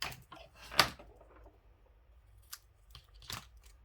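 Scissors cutting paper straight, a few short crisp snips spaced apart in a quiet room.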